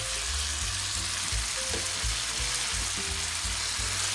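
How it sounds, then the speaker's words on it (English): Seasoned ground meat, flavored with adobo all-purpose seasoning and garlic powder, fries in a pan with a steady loud sizzle while a utensil stirs and breaks it up in repeated low scraping thumps. "I'm going to mix it and continue to break down my meat. We're going to cook it until it all turns brown."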